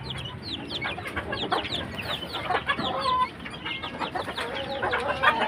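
A Cuban tiger hen broods on her nest, giving repeated soft clucks amid a busy chorus of other chickens and fowl calling nearby.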